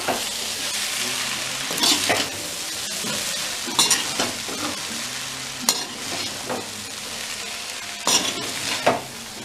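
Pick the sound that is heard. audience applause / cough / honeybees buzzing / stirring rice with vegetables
stirring rice with vegetables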